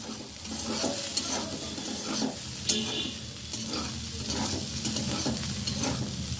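Fried egg crumble stirred into flat beans in a frying pan, a steady close sizzle under repeated scraping stirring strokes, with a couple of sharper clinks of the spatula against the pan.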